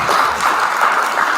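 Brief burst of congregation applause during a Sunday church service, steady and fairly loud, with no break for its short length.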